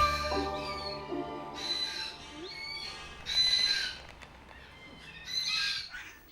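Cockatoos at a bird refuge give harsh squawks and screeches in several bursts, fairly close, with quieter chatter between calls.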